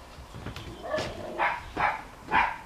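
Dogs bark in a series of loud, close yips and barks, roughly four to five bursts in quick succession, with some indistinct sounds underneath.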